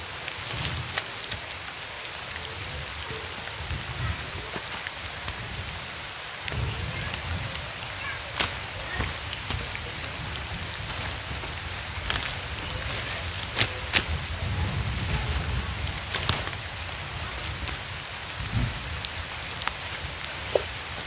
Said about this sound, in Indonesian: Tuh, gelap semuanya, udah mulai gerimis.